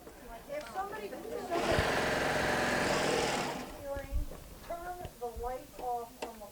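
A serger sewing machine whirs at high speed in a short burst of about two seconds, loud and close, with someone talking before and after it.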